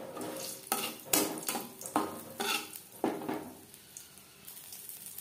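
Three dried red chillies fry in hot oil in a wok, with a soft sizzle under several sharp clinks and scrapes of a metal spoon stirring against the pan, some louder strokes followed by quieter ones.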